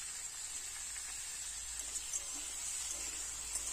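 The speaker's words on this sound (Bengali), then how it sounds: "আলু খুব ভালোভাবে ভেজে নেব" Potatoes seasoned with turmeric and salt fry in oil in a pan for a fish curry, giving a faint, steady sizzling hiss throughout with no voices.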